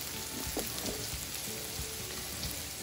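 Lentils dry-roast or fry in a pan in a home kitchen, a soft, continuous crackling sizzle with faint scattered pops, quiet and without talk.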